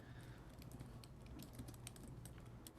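Typing on a computer keyboard during an online music session, quiet, rapid, irregular key clicks close by and running throughout, with no talking.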